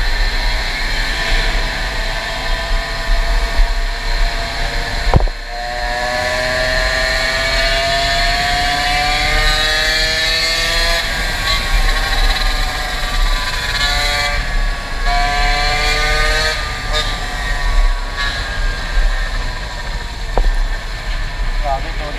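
A vehicle engine drones steadily and close throughout, its pitch sliding up and down as the gearing changes, with bumps and knocks along the way while people talk over it.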